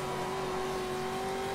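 Steady, loud engine drone of a Nissan GTR GT1 race car in the video game rFactor 2, holding an even high pitch throughout without a break.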